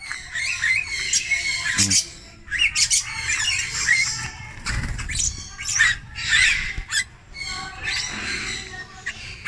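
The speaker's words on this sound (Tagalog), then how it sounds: "Gaganda ng main na rito, grabe." Myna birds at Avilon Zoo give repeated harsh squawks and chattering calls, loud and close, in irregular bursts across the whole stretch.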